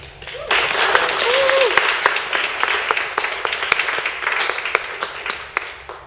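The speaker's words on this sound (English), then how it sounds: "I want everyone to cheer, make her feel as comfortable as possible" A crowd at a Sikh community self-expression event applauds and cheers as a speaker comes up, a steady dense wash of clapping close by, with a brief voice rising over it near the start.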